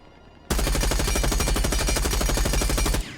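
An F90 assault rifle in Rainbow Six Siege X fires one long, rapid full-auto burst for about two and a half seconds, each shot a sharp, evenly spaced crack, loud and close, with a brief tail as it stops.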